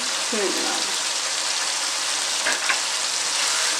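Chickpeas and koftas fry in hot oil in a pan, a dense, even sizzle filling the whole moment, with a brief voice near the start and a faint clink later.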